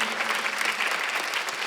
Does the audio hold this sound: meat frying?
no